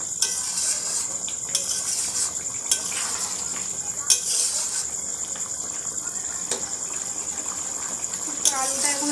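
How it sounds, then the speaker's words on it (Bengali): Chicken and potato curry with slit green chillies being stirred in a pan, a spoon scraping and clinking against metal in short strokes over a steady close sizzle, with brief louder scrapes. "এবার একটু নেড়ে নেব"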